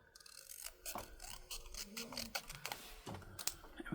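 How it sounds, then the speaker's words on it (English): A paper flashcard being cut down to size for a Christmas gift tag, heard as a string of quiet, crisp snips and rustles close by. "I think what I might do is go ahead and cut this down."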